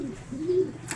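Pigeons calling with a soft, low cooing call that swells midway through the short stretch, while a flock crosses overhead outdoors.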